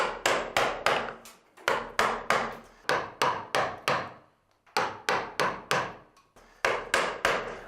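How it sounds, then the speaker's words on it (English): Mallet striking a carving gouge to remove large pieces of timber during woodcarving, sharp close wooden knocks in quick bursts of three to five blows separated by short pauses. "If I want to remove large pieces of timber"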